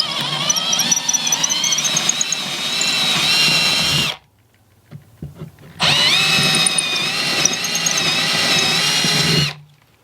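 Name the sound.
power drill drilling through wood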